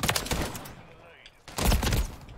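Gunfire in the video game Modern Warfare 3, dense rattling bursts of rapid shots, a brief lull, then another loud volley.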